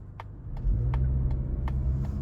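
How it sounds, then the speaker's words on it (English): A 2024 Mazda CX-50 accelerating harder, its engine rumbling low and steady from inside the cabin, with a few faint, evenly spaced ticks above the drone. "I'm gonna accelerate a little harder."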